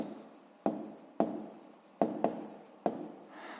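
Handwriting on paper during a sixth-grade maths lesson, a pen or pencil scratching in several separate strokes with short pauses between, faint and close, with no voices.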